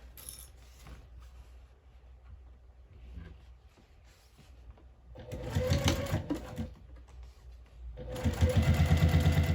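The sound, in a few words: sewing machine top stitching fabric for a bag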